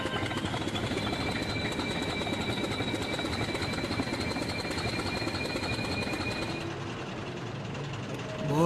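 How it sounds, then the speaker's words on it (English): A loud diesel locomotive engine drones continuously at close range, a heavy, steady rumble with a faint whine layered on top that barely eases near the end. "Boy, that's a loud engine. It could use a muffler."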